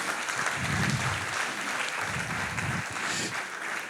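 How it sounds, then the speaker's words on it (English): A large crowd at a church conference session gives a loud, continuous round of applause for the pastors, a dense wash of clapping with low rumbling swells underneath. "a round of applause for your pastors"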